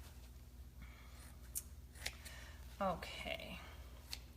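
Scissors snipping a paper napkin for a DIY wooden serving tray, a few short, crisp cuts and paper rustles close by, with a brief spoken word partway through.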